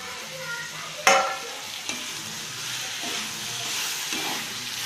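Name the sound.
prawns added to frying pan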